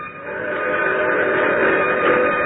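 A train rolls past as a radio drama sound effect, a steady loud rumble of wheels with a whistle tone held over it, continuous and close throughout.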